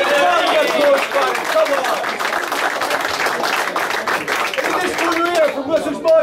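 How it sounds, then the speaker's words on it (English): Gym crowd at a memorial boxing fight night clapping and cheering for a fighter, steady dense applause close by, with people talking and shouting over it. "another round of applause"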